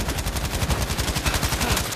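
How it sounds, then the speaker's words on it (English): Rapid automatic gunfire from Battlefield V on Xbox One rattles in a steady, loud stream of closely spaced shots that fill the whole stretch. "the only thing I can think of is shooting at that thing"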